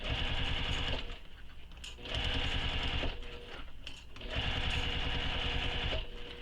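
A sewing machine stitches fabric for a crossbody bag in three steady, loud whirring runs separated by short pauses, with no talk over it.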